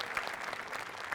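A studio audience at a Marathi comedy show claps together in a brief, dense burst of applause, steady and fairly close, with no voices.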